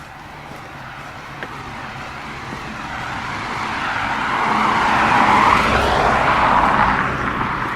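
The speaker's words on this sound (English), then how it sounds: "because of the ambient noise of traffic" Steady road traffic noise along a street during a run, a continuous broadband roar that swells gradually as vehicles draw nearer and pass, with a brief tyre-like hiss, no talking.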